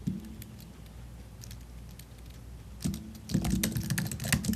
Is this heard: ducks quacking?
no